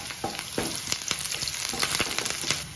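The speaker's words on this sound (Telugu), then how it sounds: "రెండు ఎండుమిరపకాయలని ఈ విధంగా తుంచుకొని వేసుకొని ఫ్రై చేసుకోవాలి లైట్గా" Dried red chillies and curry leaves fry in hot oil for a pappu charu tempering, a busy crackling sizzle with sharp pops and stirring, close and steady.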